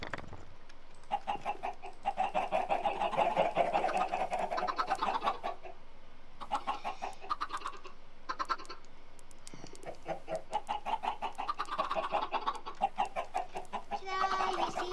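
Chickens cluck in the Minecraft video game in repeated bursts, some close and loud, with short pauses between groups of calls and no talking.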